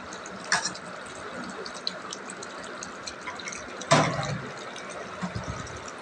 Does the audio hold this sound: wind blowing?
no